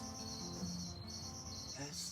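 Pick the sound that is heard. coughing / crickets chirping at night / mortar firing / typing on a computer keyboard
crickets chirping at night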